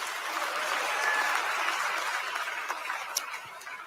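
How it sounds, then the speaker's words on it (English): An audience claps hands in a dense, steady round of applause heard from a distance, moderately loud and without talk. "Clap your hands."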